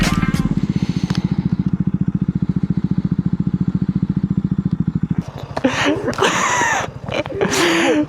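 A motorcycle engine chugs in a rapid, steady idle rhythm up close, then revs and clatters as it pulls away with rising, whining pitch.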